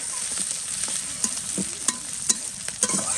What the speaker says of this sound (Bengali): এখন হচ্ছে পেঁয়াজ কুচি দিয়ে দেব পেঁয়াজটা কিন্তু ভালো করে ভেজে নেব